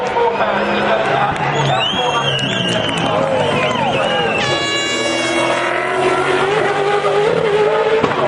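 A race car roars past at speed during the 2011 Bathurst top-ten shootout, engine note rising under acceleration and falling under hard braking, with loud crowd and commentary noise mixed in.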